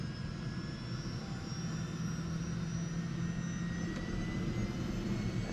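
An AS350 B2 helicopter's turbine engine spins up on its starter, a steady loud broadband roar with a rising high whine, close and continuous without a break.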